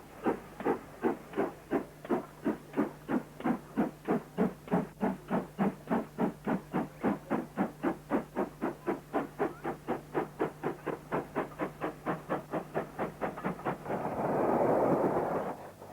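A Great Western 28 class 2-8-0 steam freight locomotive chuffs in a steady, evenly spaced rhythm for a long stretch, ending in a loud burst of rushing steam.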